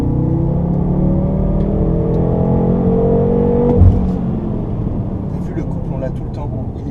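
A 560 hp BMW M6 Gran Coupé accelerates on a race circuit, its engine droning loudly and rising steadily in pitch before easing off, with people talking over the engine noise.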